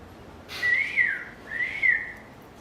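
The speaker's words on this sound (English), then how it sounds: "I hear you whistle from the corner of the stairs." A person whistles two rising-and-falling phrases, clear and fairly close, with a short pause between them.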